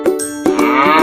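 A cow moos loudly and close by, a few short, throaty lows in quick succession with no other sound around them.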